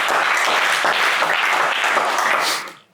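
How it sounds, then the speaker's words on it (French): Studio audience on a French game show breaks into loud, dense applause for about two and a half seconds before it cuts off abruptly. "Allez, on applaudit Wilfried, s'il vous plaît."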